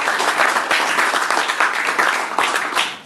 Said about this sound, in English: I think we should just give them a little clap to the NHS.